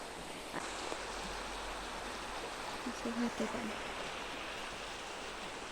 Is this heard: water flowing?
yes